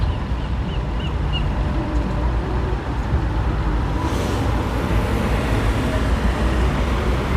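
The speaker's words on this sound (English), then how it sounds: "now some cars are making a left turn on the left green arrow" Cars turn left on a green arrow at a California intersection, a steady wash of nearby traffic and road noise rolling continuously with engines passing, fairly loud, no talk.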